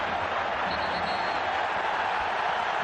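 An unhappy home crowd in a football stadium during Sevilla against Barcelona, a dense, steady roar of murmuring and jeering that fills the whole short stretch.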